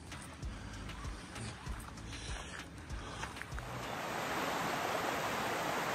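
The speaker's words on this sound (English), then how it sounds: "It's a tiny little creek, eh?" A tiny creek flows steadily beside a highway stop in Strathcona Park, a broadband rushing wash that swells louder toward the end, with faint intermittent knocks and handling noise in the first half.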